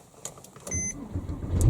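A Porsche sits idling, then its engine is switched back on with a rising mechanical rumble that swells and holds steady, close by, with a faint electronic whine just before the start.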